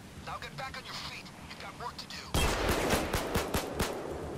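Sniper fire erupts outside during a heist in the video game Payday 2, with a sudden burst of rapid gunshots alongside chatter and game noise after a quieter opening.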